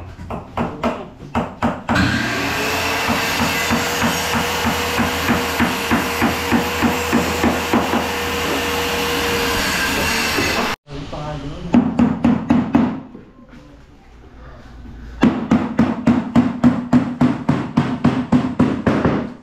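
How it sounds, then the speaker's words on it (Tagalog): A hammer pounds again and again in fast, regular strikes, loud and close, with a short pause partway before the blows resume. "Bayo yung martilyo ng Ravel."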